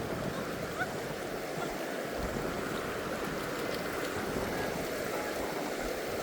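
River water flows and splashes steadily as a dog swims in it at a nature reserve, a continuous close burble with faint low rumbles and no talking.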